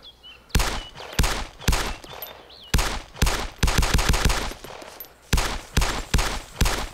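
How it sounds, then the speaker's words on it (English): Gunfire in the DayZ video game rings out as loud, sharp single shots and short bursts, roughly a dozen reports with brief pauses between them and echoing tails. "I was shooting at somebody."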